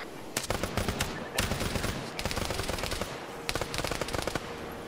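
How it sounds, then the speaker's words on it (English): Video game gunfire coming through windows: bursts of rapid automatic shots in several clusters, sharp and fairly close, with faint game ambience between volleys. "They're shooting through the windows."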